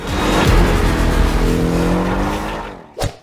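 A Porsche's 2.0-litre four-cylinder engine making 300 hp revs hard and loud up close, its pitch climbing steadily before it cuts off sharply, followed by one short burst near the end.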